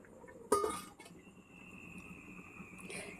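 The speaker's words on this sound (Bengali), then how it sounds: "এবার আমি ঢাকা দিয়ে দিচ্ছি" A lid goes down on a pot of simmering chicken curry with potatoes, giving a single sharp clink of glass or metal. A faint hiss and a soft, steady background tone follow.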